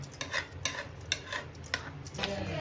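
A spoon scrapes and stirs a thick, sweet beetroot mixture in a metal pan, giving irregular clinks and scrapes at a quick, uneven rhythm, close and alone.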